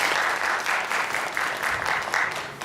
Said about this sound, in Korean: 성가대 박수 다시 한번.